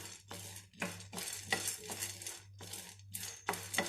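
Roasted gram is stirred in a pan over a low flame, a spoon scraping and rattling the dry chickpeas in steady, close bursts with a faint sizzle underneath.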